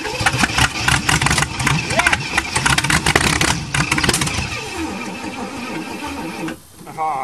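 An old Chevy engine cranks over on a cold start with the choke set, a loud, busy run of rhythmic churning that stutters and labors before dropping off near the end, with speech mixed in.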